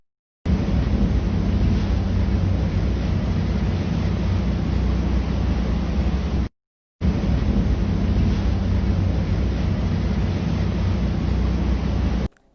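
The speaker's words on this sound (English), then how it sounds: "Here are some clips of us actually riding a riverboat." Wind rushes hard and steady against the microphone aboard a riverboat on the river at Savannah, a loud continuous roar broken by one brief cut.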